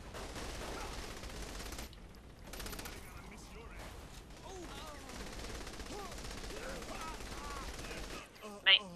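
Gunfire in the video game Saints Row: The Third, with fairly quiet rattling shots that sit under and between voices talking throughout.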